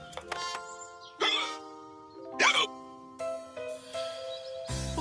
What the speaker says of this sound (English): I think you've got hiccups